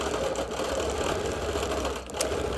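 A sewing machine quilting busy-print fabric hums and chatters steadily and evenly at close range, with a brief dip near the end and no talking.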